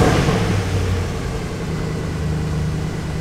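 A Mercedes C63 with a German engine is revved in a brief sound test, opening with a loud throaty engine blip that falls back to a steady, lower idle rumble, heard alone without talk.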